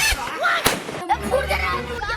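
A firecracker bursts during Diwali celebrations, giving a couple of sharp, loud pops close by amid people talking and calling out.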